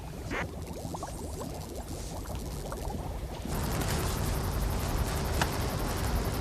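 Vinegar mixed with baking soda inside a lidded bottle fitted with a straw fizzes and bubbles steadily, releasing carbon dioxide; a soft crackling hiss that grows denser and louder partway through and continues without a break.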